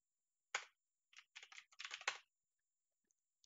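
Quick keystrokes tap on a computer keyboard in a quiet room: one isolated press, then a rapid cluster of close, crisp clicks before silence returns.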